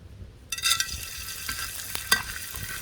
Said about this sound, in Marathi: आता थोडा थोडा डिंक घेऊन आपण तळून घेऊया ह्याच्यात